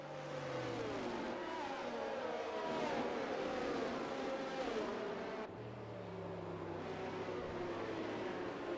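A safety car engine in an F1 racing video game at the Singapore round drones steadily and loudly for the whole stretch, its pitch rising and falling, with a shift in tone partway through.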